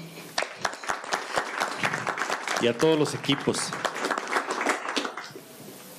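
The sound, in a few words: audience applause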